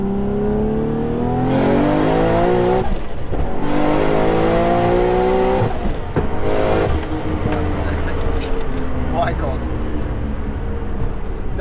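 A 955bhp Nissan R33 GTR with a sequential gearbox accelerates hard from inside the car. The engine climbs loudly through rising revs, breaking off sharply at two quick gear shifts before pulling on, with a voice heard over it.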